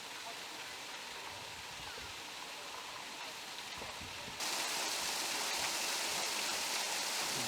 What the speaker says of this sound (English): Water still rushing through the sluices